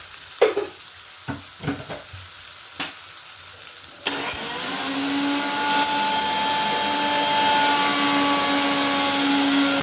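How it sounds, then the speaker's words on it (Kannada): A kitchen mixer grinder whirs into a loud, steady run partway through, blending coconut, mint and coriander after a few sharp knocks and clinks, then holding a continuous high motor drone with no talk. "ಅಷ್ಟೊತ್ತಿಗೆ ನಾವು ಮಿಕ್ಸಿಗೆ ಮಾಡ್ಕೊಂಬರೋಣ"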